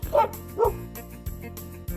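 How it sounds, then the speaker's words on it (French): A dog barks at wind turbines on an open plateau on a hiking trail: two sharp barks close by, then a rhythmic, pulsing background sound that repeats about every 0.6 seconds. "Elle s'élance vers elle en aboyant."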